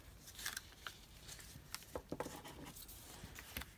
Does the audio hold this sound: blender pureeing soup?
no